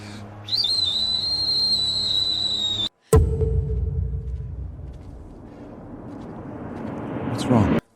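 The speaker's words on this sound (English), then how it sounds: "That's the Pompey family's death whistle." A shrill sustained whistle blown as the Pompey family's death signal, holding one high pitch for a few seconds before cutting off, then a rumbling, rising roar and a voice briefly speaking.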